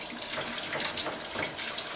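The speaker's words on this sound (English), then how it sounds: "fill the tank with water and dump it a bunch of times" Running water pours steadily into a film developing tank for about two seconds, a close, continuous splashing hiss with no talk over it.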